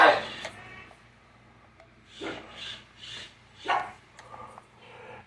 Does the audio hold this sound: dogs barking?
yes